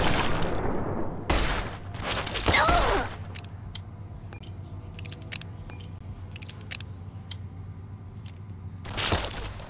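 Auto pistol fire in Fallout: Tale of Two Wastelands: loud bursts of rapid shots in the opening seconds and again at the end, with sharp clicking and metallic ticks in between.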